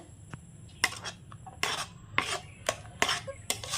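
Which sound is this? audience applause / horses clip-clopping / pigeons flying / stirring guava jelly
stirring guava jelly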